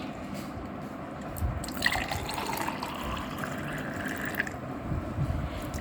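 Lemon sherbet being stirred together with cold water, giving faint liquid sloshing and dripping sounds over steady background noise, with no talking.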